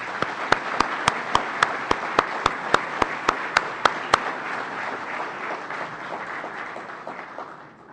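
Audience applause at the FISL17 free software conference opening, with sharp, regular loud claps punctuating the first half over steady crowd clapping that gradually thins and fades toward the end.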